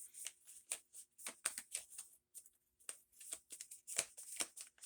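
Tarot cards shuffled and pulled from the deck in quick papery riffles and flicks, a close, quiet string of irregular bursts with brief pauses between them.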